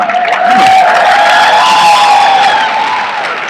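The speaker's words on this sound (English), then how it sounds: "Clap up some more, then." A large crowd at a political campaign conference in Washington, D.C. cheers and claps loudly, a continuous roar with whoops and a sustained tonal shout riding over the applause.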